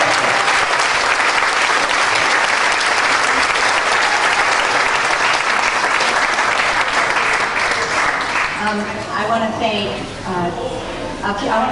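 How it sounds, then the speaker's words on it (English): A loud, dense round of audience applause at the 2010 Dancing With The Stars of Auburn event honours Sally D'Angelo. It holds steady for several seconds, then tapers off as a voice begins speaking over the last claps. "A big round of applause for Sally D'Angelo."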